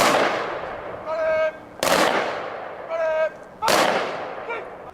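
Police firing party volley at a fallen officer's funeral: three sharp rifle volleys spaced about two seconds apart, each echoing away, with a brief tonal sound between shots.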